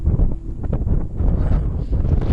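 Strong gusting wind of an approaching storm roars and buffets the microphone in a continuous low rumble, with no break in the loud, turbulent noise.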